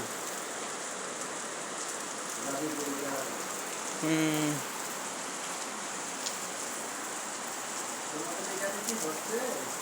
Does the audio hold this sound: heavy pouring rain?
yes